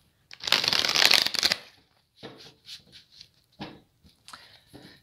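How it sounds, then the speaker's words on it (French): A tarot deck being shuffled up close, one long riffling burst followed by several shorter card slides and taps, with no talking. "Alors, on va regarder avec le tarot. Je vais prendre 3 cartes."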